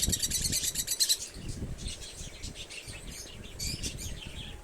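Pet budgies and lovebirds in a home aviary, including lutino and pied budgerigars, chirp and tweet continuously in a dense, busy chorus, with sharp bright calls clustering near the start and again toward the end.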